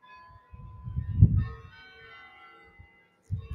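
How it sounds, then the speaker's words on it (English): Church bells ring faintly in the distance, a lingering metallic tone hanging over low rumbling and muffled thumps nearby. "maybe I manifested church bells just now"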